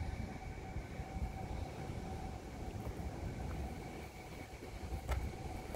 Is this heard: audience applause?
no